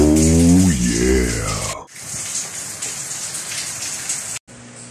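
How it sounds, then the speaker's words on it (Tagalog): Heavy rain pours during a typhoon as a dense, steady hiss that runs through the whole stretch, with a voice speaking over it at the start. "At umuulan, no? Malakas yung bagyo."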